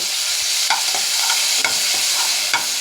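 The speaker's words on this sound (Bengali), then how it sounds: "এটা দিয়ে আবার একটু নাড়াচাড়া করে নেব।" Fish with mustard paste being stirred in a hot pan: a continuous close sizzle with rhythmic scraping strokes of a spatula against the pan every half second or so, no voices.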